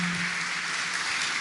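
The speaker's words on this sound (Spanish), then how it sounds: "aplauso para Javo del staff de Bug Bounty argentino" A conference audience at an Argentine bug bounty event applauds a staff member, a steady wash of clapping throughout with no talk over it.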